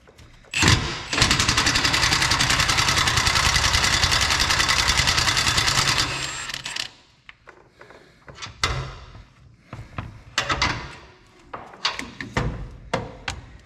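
An impact wrench on 18 millimetre bolts of a 2022 Ford Super Duty gives one loud sustained burst of about six seconds, followed by clunks, rattles and handling noises.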